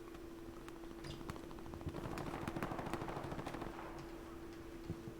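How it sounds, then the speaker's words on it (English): Rapid gunfire from the World War II shooter Hell Let Loose during a competitive tournament match, with bursts of automatic shots and scattered single reports crackling over a steady battlefield din. "Glad's got a few shots, but Platinum's still alive."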